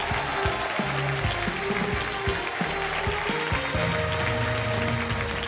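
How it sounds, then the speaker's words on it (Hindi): Studio audience applauding on a televised Hindi game show, a steady wash of clapping that runs throughout under music, with no voices standing out. "जोरदार तालियां।"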